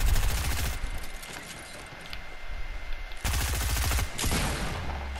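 Video-game gunfire from sniper and SMG weapons rings out in two loud bursts of rapid shots, the first lasting under a second and the second over a second, with quieter game ambience between and after.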